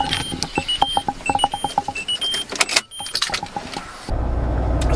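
Citroen C8 2.0 HDI minivan seatbelt warning chime, a run of short, evenly spaced electronic beeps over the first few seconds inside the car, then giving way to steady cabin noise.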